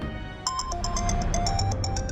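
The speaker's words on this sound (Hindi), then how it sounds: "किसका फोन आया?" Phone ringtone playing a bright repeating electronic melody of quick tones, clear and close, starting abruptly after a moment of low background noise.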